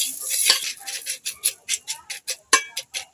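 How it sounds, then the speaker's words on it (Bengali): Tea leaves and sugar being mixed together in a small bowl to make homemade alta, heard as a close run of quick, rhythmic dry scraping strokes that grow more evenly spaced toward the end. "এবার চা আর চিনিটা ভালোভাবে মিশিয়ে নেব।"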